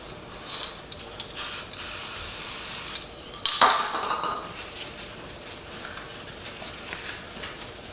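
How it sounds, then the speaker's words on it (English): Several short bursts of hissing protectant spray onto a towel, one a longer steady blast, followed by a soft rubbing sound, close by with no talking. "So I spray it onto a towel and wipe it off."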